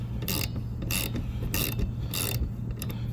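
A 12mm ratchet tightens the rear wiper arm nut on a Nissan Juke, giving close, repeated bursts of ratcheting clicks at a steady rhythm with no talking.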